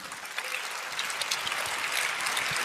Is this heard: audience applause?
yes